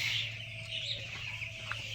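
Chickens on a poultry farm cluck softly and steadily at close range over a constant low mechanical hum.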